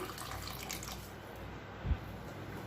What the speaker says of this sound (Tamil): இப்போ இந்த தண்ணியை ஊற்றிட்டு நல்லா கலந்து விட்டுடலாம்.